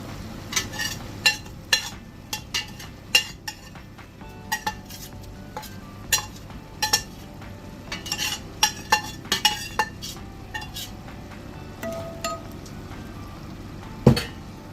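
A spoon stirs fried venison into spiced pickle masala in a pan, with repeated sharp metal clinks and scrapes in an uneven rhythm over a low background hiss, close by.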